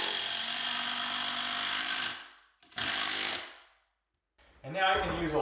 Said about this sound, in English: get one of these screws started